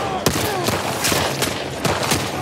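Gunshots in The Last of Us Part II Remastered, several sharp cracking shots in quick irregular succession over a noisy combat background, close and loud.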